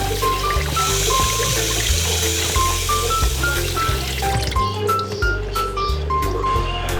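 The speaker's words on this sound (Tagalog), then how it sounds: "Pagkatapos nating balatan ay huhugasan natin yung kamote." Peeled sweet potatoes are washed under a running kitchen tap, a steady close splash of water with bright dripping and gurgling tones over a constant rush.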